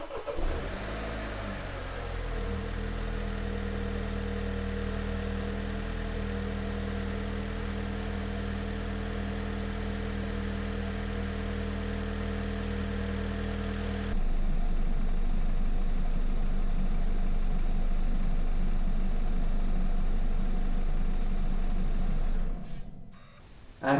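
A BMW X1 engine idles steadily for the whole stretch while its cooling system is bled, a constant low hum that shifts to a rougher, slightly louder tone partway through, with no one talking.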